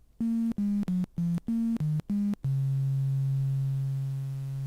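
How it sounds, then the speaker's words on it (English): A buzzy, slightly grungy 8-bit sine wave from a modular synthesizer plays seven short pulses at shifting pitches, then holds one sustained low note that slowly fades. "Then we've got it's an 8-bit sine wave."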